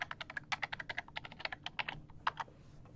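Rapid, irregular keystrokes on a computer keyboard as a password is entered during a software install, about a dozen or more close, crisp clicks in quick bursts with no talking.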